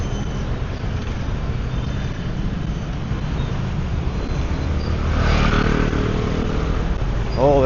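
Motorbikes and cars move along a busy Saigon street, a steady close engine drone with one bike swelling louder as it passes near the end, over general traffic hum.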